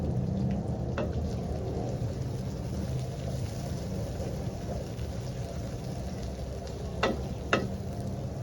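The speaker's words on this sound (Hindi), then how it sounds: "ऑयल हमारा गर्म हो गया है, प्याज इसमें डालते हैं।" Onions fry in hot oil while a Chicken Nihari is being cooked, giving a continuous hissing sizzle at an even level with a couple of brief sharper clicks near the end. No voices are heard.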